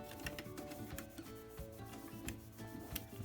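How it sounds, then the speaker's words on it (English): Cloth wiping finish onto a turned wooden slimline pen, with soft, quiet rubbing strokes and light ticks in a steady rhythm, close and faint, with no talking. "So I'm just going to start wiping this on."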